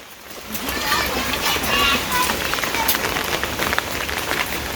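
Steady rain patters and splashes on a surface in a village, a dense continuous wash of drops, fairly loud and close.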